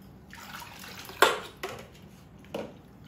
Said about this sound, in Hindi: फिर इसे साफ पानी से आप धो लें अच्छे से।